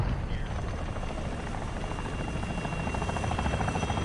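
A video game helicopter's steady rotor drone and whine fill the whole stretch at constant volume, with no voices over it.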